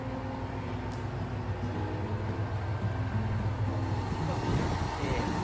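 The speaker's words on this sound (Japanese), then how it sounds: "このね列車見てみると普通の気動車なんですけども" A steady low mechanical rumble of a Tosa Kuroshio Railway Shintaro diesel railcar idling at a platform on the Gomen-Nahari Line, constant and close, with a faint hum and a brief high chirp near the start.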